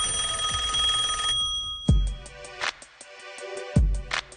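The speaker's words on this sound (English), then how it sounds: "if you hear a phone ringing to your right" A telephone rings loudly with a rapid bell trill, then stops, and a few sharp knocks or clunks sound in the quieter stretch after it.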